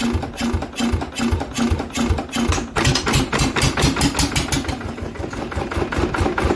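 A Lister diesel engine chugs loudly and close by in a fast, even rhythm of heavy thumps while its throttle is worked.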